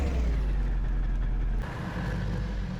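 Steady engine drone from a vehicle in Farming Simulator 15, likened to an F7 diesel locomotive, a continuous low rumble that drops slightly in level partway through, with no talk over it.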